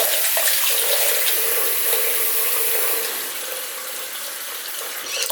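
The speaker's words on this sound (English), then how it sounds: "filling my sink with water, some warm water" A faucet runs warm water into a sink, a steady loud rushing splash that continues unbroken and eases slightly in level partway through, with no voices.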